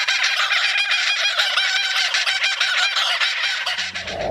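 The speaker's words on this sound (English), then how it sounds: "Dusky grouse." Dense, continuous dusky grouse calling with many overlapping voices, loud and close, with honking, clucking tones running throughout and no talk.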